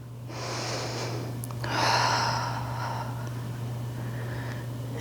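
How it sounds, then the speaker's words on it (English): Slow, deep breaths during an aerial yoga class with a beginner aerial hammock, soft and close over a steady low hum, with a fuller exhale near the middle. "So take a few more breaths."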